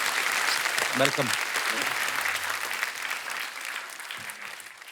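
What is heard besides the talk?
audience applause for Arvinder Paaji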